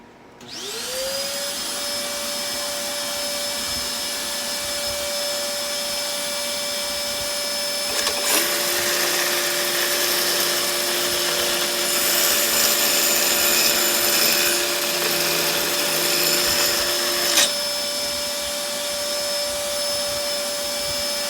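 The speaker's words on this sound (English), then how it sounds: "I'm going to turn the vacuum on." A vacuum cleaner whirs up and runs steadily with a high whine, its tone shifting partway through as it sucks up sawdust, then settling back.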